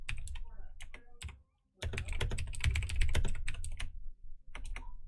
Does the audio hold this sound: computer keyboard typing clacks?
yes